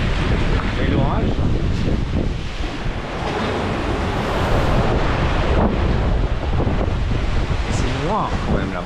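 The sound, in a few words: strong wind at sea on a sailboat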